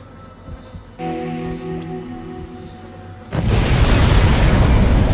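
A bomb goes off in the sci-fi horror game Dead Space aboard a space station, a sudden loud broadband blast that follows a steady tonal hum and then roars on as a sustained rumbling wash to the end.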